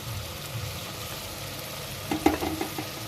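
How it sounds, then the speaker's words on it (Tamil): Tomato and masala powders sautéing in oil in a clay pot for fish curry, a steady soft sizzle with light stirring scrapes and a few louder clinks near the end. "இதெல்லாம் நல்லா எண்ணெயிலே வதங்கட்டும்"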